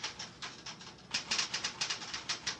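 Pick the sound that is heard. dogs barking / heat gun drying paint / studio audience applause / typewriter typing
typewriter typing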